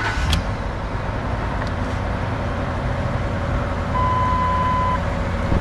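A 2008 Ford F250 4X4 utility truck engine idles steadily just after starting, a constant low rumble heard from close by, with a brief thin electronic tone partway through.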